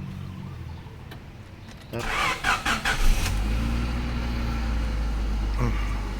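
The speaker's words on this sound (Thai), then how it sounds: "ลองสตาร์ทเครื่องดูสิว่ามันจะมีอะไรบ้าง" A car engine cranks in a quick series of churning bursts, catches, and settles into a steady low idle, heard close by.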